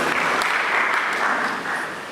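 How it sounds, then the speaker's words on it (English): Round of applause from a school debate audience at a Mfantsipim School anniversary event, a dense steady wash of many hands clapping at once that holds loud throughout and eases slightly near the end. "Let's give the person a round of applause, the main speaker for the motion"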